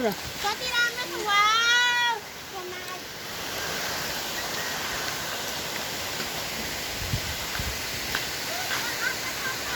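A waterfall pours with a steady, broad rushing roar of flowing water that holds evenly throughout, while a brief higher-pitched voice-like tone rises over it near the start.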